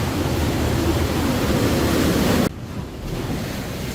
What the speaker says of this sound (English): a wave splashed into the rocks and fell out